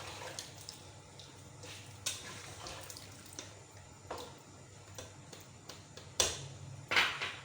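Water pours from a jug into a pot of boiled chickpeas in a home kitchen, faint splashing with a few sharper clinks and bursts near the end.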